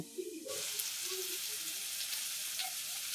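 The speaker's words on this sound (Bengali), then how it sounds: "আর একটু পটল ভেজে নিচ্ছি" Pointed gourd (potol) sizzles in hot oil in a home kitchen pan, a steady close crackling hiss that starts abruptly and continues throughout, with faint bird calls in the background.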